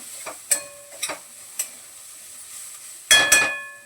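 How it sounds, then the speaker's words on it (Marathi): Capsicum stir-frying in a pan in a home kitchen, a soft background sizzle broken by a few sharp scrapes and clatters of the spatula, the loudest double stroke near the end. "असे एकदम कुरकुरीत पाहिजेत असं परतत राहा फक्त 2 मिनिटासाठी"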